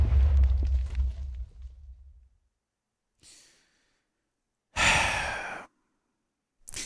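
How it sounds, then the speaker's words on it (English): Infernal Armor chest plate in Minecraft Tekkit 2 setting off explosions around the player: a loud low rumbling burst that fades over two seconds, then a brief faint blast, a strong broad boom and a final short burst. "Create an explosion around you with C."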